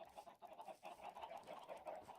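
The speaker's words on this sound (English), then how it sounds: "Chicken! Chicken." Minecraft chickens cluck in a quiet, steady run of short, rhythmic in-game clucks, faint and uninterrupted with no talk over them.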